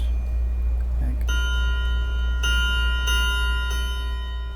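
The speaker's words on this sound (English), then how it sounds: "periodically allowing the hammers to hit the rods to test the sound" Hammers of a mechanical clock chime being adjusted strike metal chime rods in a few spaced hits, each leaving bright ringing tones that sustain and overlap over a low steady hum.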